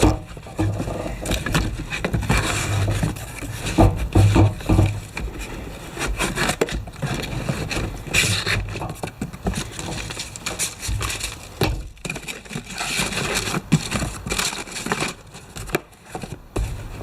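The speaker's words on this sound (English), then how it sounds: "I'm just planing down the end of this handle to go on the end of this mostly polished pick." A hand plane scrapes and shaves repeatedly along the end of a wooden pick handle. The rough, rasping strokes sound close and loud and run continuously with short breaks, and no voice is heard.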